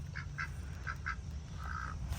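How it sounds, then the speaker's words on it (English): A duck quacks several times in short bursts, then gives one longer drawn-out call, heard over a steady low outdoor rumble in an autumn garden near a greenhouse. "Why is there a duck in there?"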